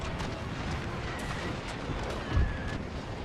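Carronade cannon fire striking a ship's sails in a naval battle game, a dull low boom rising briefly over a constant dense roar of battle noise.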